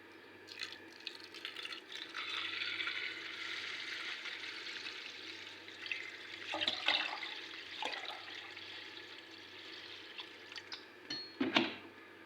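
Water is poured onto rice that was soaked and washed, with a faint, continuous splashing stream that swells in short bursts toward the end, and drips around it, with no voices.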